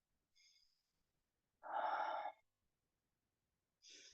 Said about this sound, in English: Now deepen your breath, really deepen that breath. Let your mouth help you. Breathing out of the mouth.